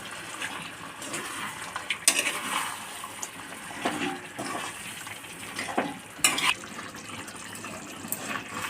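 Boiler chicken curry is stirred in a pot with a spoon: steady wet scraping and bubbling with a few sharper clinks against the pot, no talking.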